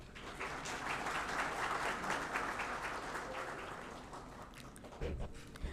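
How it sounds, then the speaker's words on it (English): A hall audience at the Bureau of Indian Standards Foundation Day 2025 in Mumbai applauds to welcome dignitaries, a steady, fairly distant round of clapping that holds evenly, then breaks off near the end. "let us welcome them with a big round of applause"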